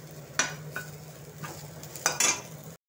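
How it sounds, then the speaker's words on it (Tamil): Onions frying in a pan for spicy mutton biryani, a soft sizzle broken by a few brief spatula scrapes and clinks, fairly quiet and close, ending abruptly. "இங்கே வெங்காயம் வதக்கிட்டு இருக்கேன்."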